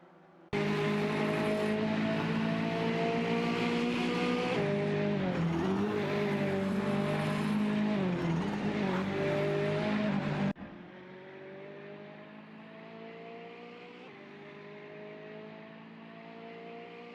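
Two Porsche race cars, among them a Porsche 900 ISAR 3.8, battle for position in a video game race, their engines droning loud and steady with rising and falling revs. The sound then drops to a quieter, constant engine hum.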